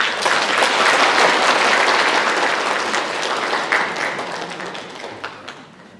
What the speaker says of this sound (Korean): 축하하십시다. 박수.